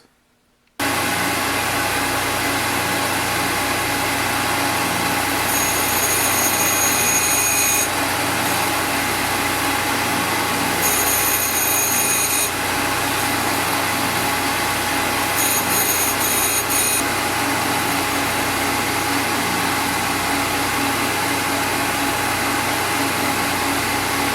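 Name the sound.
grinding the top piece of a squareness comparator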